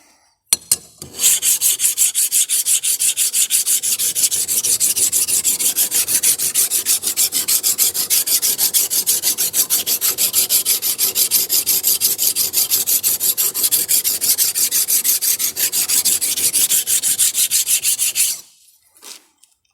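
A brand-new hand plane's sole is rubbed back and forth on 120-grit abrasive at a 45-degree angle to flatten out dents, giving a steady, dense rasping scrape for about seventeen seconds with no talk.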